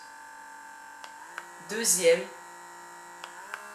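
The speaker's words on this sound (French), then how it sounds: "C'est un aspirateur en fait, c'est comme un aspirateur. Donc vous avez 3 puissances." Blackhead suction vacuum device buzzing with a steady electric hum, briefly louder with a burst of noise as it changes power setting; a voice speaks in French.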